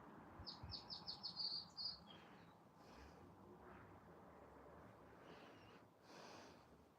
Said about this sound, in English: Some very pretty bird song and a quiet stretch of ocean